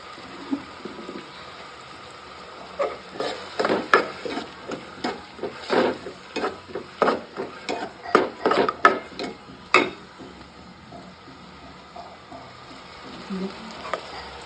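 Onions sizzle in hot oil for a besan sabzi, with a steady fry under a run of rhythmic scraping stirs that fade toward the end.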